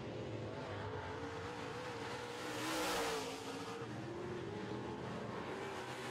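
Modified stock cars race on a dirt track, engines roaring in a steady broadband drone that swells loudest as cars pass close by about midway, then settles back to a continuous distant growl.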